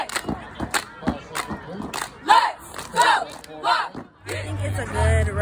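A Portland stomp-and-shake cheer team chants in loud rhythmic bursts, voices shouting in unison with sharp stomps and claps punctuating the chant, a low hum entering near the end.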